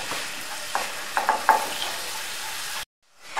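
Two tablespoons of flour roast in a pan for a white sauce, giving a soft, steady sizzle with a few sharp spoon scrapes near the middle before the sound drops to sudden silence.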